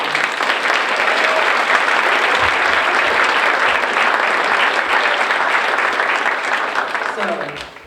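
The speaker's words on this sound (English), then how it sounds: "Can we have another round of applause for our" An audience at an academic recognition ceremony applauds loudly and steadily for several seconds before the clapping tapers off at the end.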